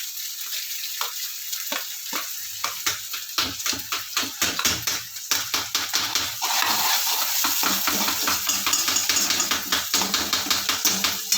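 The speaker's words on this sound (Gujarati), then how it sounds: "હવે એને હલાવવામાં આવે." Onions and chillies frying in a pan while being stirred, with a steady sizzle punctuated by quick rhythmic scraping strokes that grow into a denser, continuous frying hiss.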